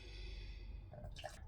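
Hot water poured into a pint glass jug, a steady liquid rush with splashing and trickling near the end, close and fairly quiet.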